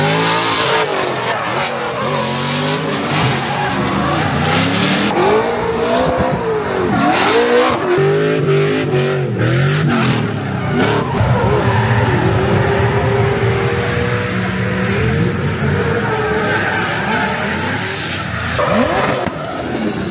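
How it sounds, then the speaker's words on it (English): A drift car slides across a newly paved course at a Formula Drift Pro Spec event, its loud engine roaring and rising and falling in pitch as the tires squeal and skid without a break, close and continuous. "It's not really meant for drifting, but we're drifting it."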